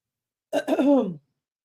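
A single close throat clearing, short and rough, in otherwise silent surroundings.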